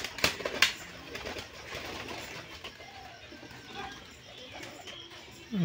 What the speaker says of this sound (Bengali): এই যে সব নিচে বাজি দেওয়া পায়রা